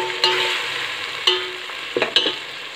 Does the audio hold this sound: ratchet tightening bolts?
no